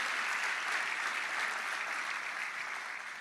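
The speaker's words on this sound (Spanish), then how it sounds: "Yo quiero que le den un aplauso a ese equipo de alabanza, a ese coro, a esas voces." Congregation applauding a church worship team and choir, a steady dense wash of clapping from a large crowd, moderately distant and even throughout.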